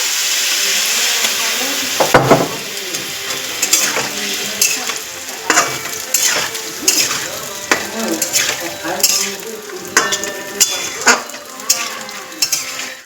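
Mixed summer vegetables, with slit green chilies, are sautéed in a pan under loud, close sizzling, while a spoon scrapes and clatters against the metal in repeated bursts of stirring.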